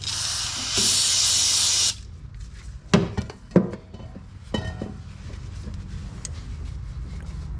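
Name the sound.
aerosol brake parts cleaner being sprayed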